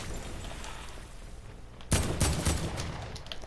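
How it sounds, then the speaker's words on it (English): Gunfire bursts out in the video game Fortnite as enemy players shoot at the player, a sudden loud volley of several rapid shots that begins midway and keeps crackling over low game ambience. "Oh, we're getting shot at."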